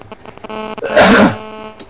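A single loud sneeze bursts out after a stretch of quiet background noise, close and sharp, then fades back to quiet.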